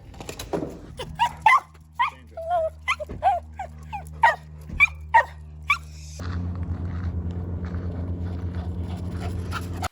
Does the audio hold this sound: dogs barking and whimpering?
yes